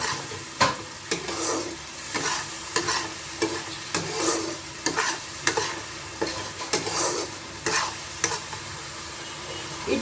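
Meat frying with chili powder in a pan for a cauliflower curry, stirred and scraped with a spatula in regular strokes over a constant sizzle, close and fairly loud.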